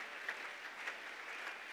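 A church congregation at an Easter service applauds, a steady wash of clapping from many hands at moderate distance, brief and even, with no voices standing out.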